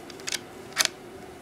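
Remington Model 121 rifle bolt being unscrewed and pulled apart, two brief, quiet metallic clicks about half a second apart, close up with no speech.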